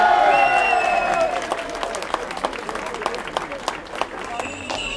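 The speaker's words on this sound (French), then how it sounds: "Vous pouvez les applaudir." Crowd applause at an outdoor 1900-style wedding in Saint-Rémèze, with dense clapping that starts loud, thins out into scattered claps and has voices talking over it.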